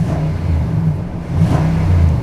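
A 2013 Nissan Titan PRO-4X's 5.6 liter VK56DE V8 revs loudly and close, a deep rumbling drone that rises and swells twice with no talking.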